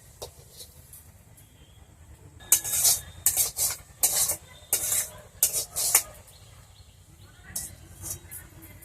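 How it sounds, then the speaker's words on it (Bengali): Cooked brinjal curry is scraped from a pan onto a plate in a series of metallic scrapes and clinks, clustered bursts of spoon on metal, close and moderately loud against a quiet kitchen background. "আমি রান্নাটাকে এবার থালায় ঢেলে নিচ্ছি।"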